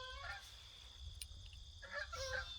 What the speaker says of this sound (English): You can hear a lot of geese.